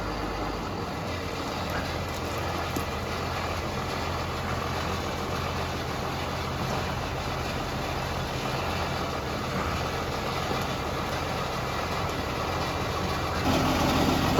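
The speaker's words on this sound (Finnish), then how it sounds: "Ilmeisesti vaan linjailee toston traktorin silleen hyvin, että pääsee painaa tosta ojasta yli." A tractor engine runs steadily while being driven across a ditch, a continuous low, rough drone at moderate distance that rises slightly in loudness near the end.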